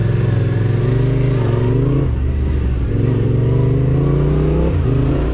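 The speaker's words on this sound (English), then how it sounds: "Because of its dual cylinder situation, it's not very buzzy and the motor's kind of relaxing and has a great tone to it." Twin-cylinder adventure motorcycle engine revving loudly up close, rising and falling through several throttle blips with a smooth, unbuzzy tone and no talk over it.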